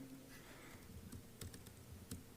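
Computer keyboard typing in a terminal while entering a Mojo Sierpinski triangle command, with a soft run of quiet key clicks and a few sharper taps over a steady low hum.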